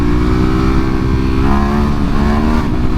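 A Ducati Hypermotard SP 2022 motorcycle engine revs hard and steadily up close, a loud continuous throb holding its pitch with a slight rise near the end.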